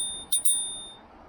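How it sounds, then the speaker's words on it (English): A bell built into a Himiway All Terrain fat tire e-bike rings twice in quick succession, bright metallic dings that linger briefly in a quiet setting. "you got an integrated bell."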